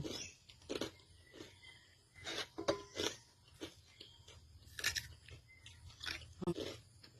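Crispy pork rinds eaten with eggplant salad, a series of close, sharp crunching bites followed by wet chewing, in an irregular rhythm and fairly quiet overall, with no speech.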